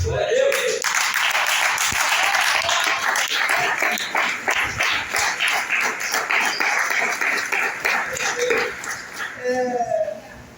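Church congregation applauding during a service, sustained dense clapping from a large crowd lasting several seconds, loud and roomy, with a few voices and a tapering finish.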